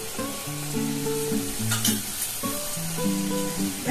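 Spices and turmeric frying in a pan for a Bengali potol curry, a steady sizzle with occasional stirring scrapes, while tonal music or a nearby voice hums beneath.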